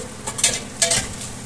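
Milkfish (bangus) meat dropped into a hot pan for sisig, sizzling and frying with two bursts of stirring scrapes, close and clear with no voices.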